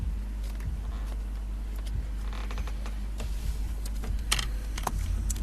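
Osho tarot cards shuffle in soft, irregular riffling clicks and slaps, close by, over a steady low background rumble, with no talking.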